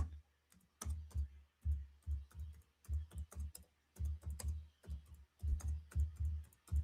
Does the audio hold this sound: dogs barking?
no